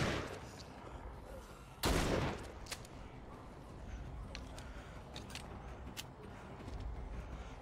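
A one-handed shotgun fired in the game The Walking Dead: Saints & Sinners, one loud booming blast near the start followed by a few fainter sharp clicks and knocks.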